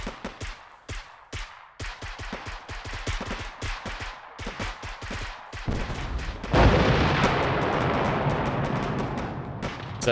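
A rocket blasts into a trench during a war video game's battle to retake an airfield with an armored column in Eastern Europe, landing as one loud, sustained roar amid a rapid crackle of gunfire and distant booms.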